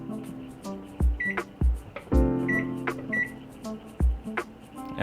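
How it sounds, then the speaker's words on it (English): A microwave oven runs while melting butter, a low hum broken by several sharp thumps and clicks and brief high beeps across a few seconds, fairly quiet and close, with no voices. "So we're just gonna pop that in the microwave and let it melt real quick."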